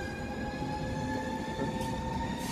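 Steady rumble of a Moscow metro train running, with a sustained hum and faint high tonal whine throughout, no voices.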